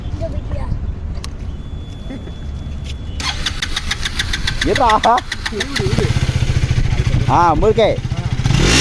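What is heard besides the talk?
KTM Duke motorcycle engine starting and revving exhaust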